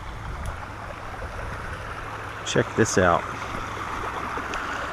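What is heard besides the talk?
Prune Creek stream flowing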